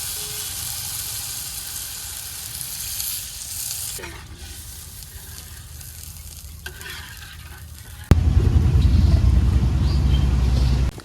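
Spices with turmeric and chili fry and get stirred in a pan with a soft, steady sizzle, then water is poured in and a sudden loud burst of hissing takes over and holds.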